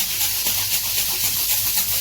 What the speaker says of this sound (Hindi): इस तरह बंद करते हुए इस तरह हिलाना शुरू कर देना